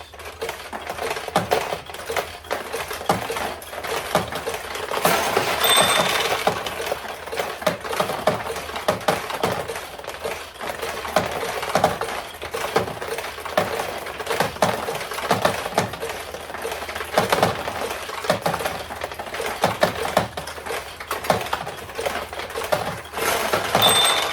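Steel balls in a restored 1973 Daichii vintage pachinko machine rattle and drop through the pins in a continuous, dense clatter of small metallic ticks, loud and close, with no talk.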